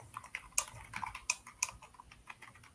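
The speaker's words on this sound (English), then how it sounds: "you can hear me typing" Quiet, rapid typing on a computer keyboard, with soft irregular key clicks and a few sharper taps close by, without speech.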